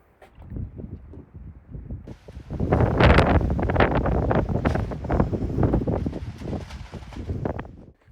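Strong wind gusts outdoors at a house building site, loud roaring buffeting that rises sharply after a quieter start and stays heavy, with no voices.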